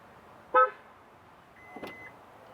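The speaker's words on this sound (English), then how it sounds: "I'm gonna get close to the car. It's gonna give me a few beeps." A short electronic chirp sounds from a Changan UNI-V sedan nearby as its owner approaches, followed a moment later by a softer tone and a faint click as the trunk unlocks.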